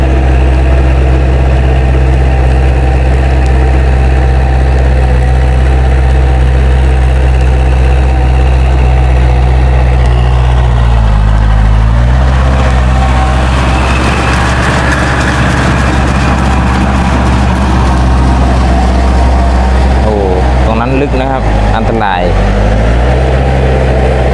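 A Kubota L4708 tractor engine runs loudly and steadily up close in a muddy rice paddy, with a deep, rumbling drone and rattling vibration; a person speaks briefly over it.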